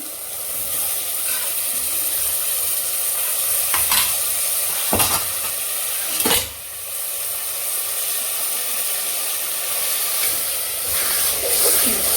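Spinach and other vegetables frying in hot oil with spices for a spinach and fenugreek khichdi, a constant dense sizzle with a few sharp clinks of stirring mixed in.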